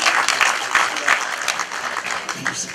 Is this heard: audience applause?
yes